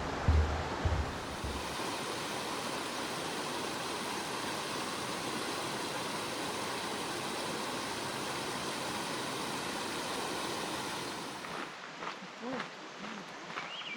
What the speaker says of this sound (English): We've come up to a nice bridge, and I checked on my map. This is the Bear Creek.